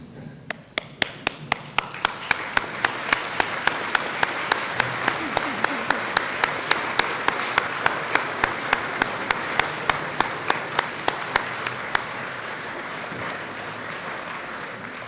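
Graduates at a winter graduation ceremony at Leeds Trinity University applaud their supporters. Loud, sustained clapping from a large hall crowd sets in quickly and holds for about twelve seconds before thinning out, with sharp individual claps standing out on top.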